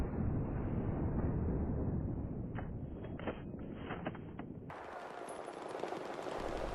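A sniper rifle firing in the Battlefield video game, with a few sharp, close reports over a steady loud rumble of battlefield noise that shifts abruptly partway through.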